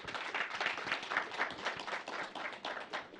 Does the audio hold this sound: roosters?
no